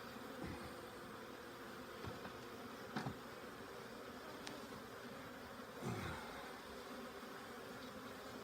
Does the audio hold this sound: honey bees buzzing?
yes